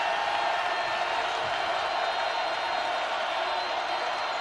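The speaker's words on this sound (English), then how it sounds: "Crowd loving it." Steady crowd roar filling a college basketball arena during an Iowa State versus Oklahoma State men's game with the score tied, loud and continuous, a dense wash of many voices with no single cheer standing out.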